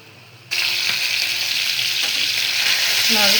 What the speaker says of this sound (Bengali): প্রথমে শোল মাছটা ভেজে নিব, সিমের বিচি দিয়ে শোল মাছ দিয়ে